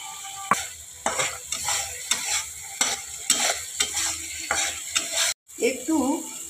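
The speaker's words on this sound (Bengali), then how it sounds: "মশলাটাকে ভালো করে একটু ভাজতে হবে।" Mustard-poppy seed spice paste with a little sugar fries in oil in a pan for a fish jhal. A spatula scrapes and stirs it in repeated rhythmic strokes over a steady sizzle, close and fairly loud, with no talking.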